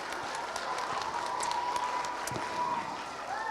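Steady applause from a school assembly audience of staff, students and parents cheering junior public-speaking students; dense, even clapping fills the whole stretch at moderate loudness, with a murmur of voices underneath.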